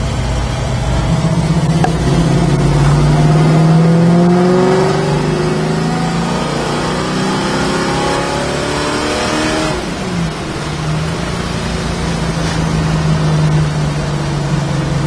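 A 1969 Chevrolet Camaro Yenko-style with an L72 engine revs and accelerates through the gears, a loud, close, throaty V8 roar rising and falling in pitch over repeated shifts without talking.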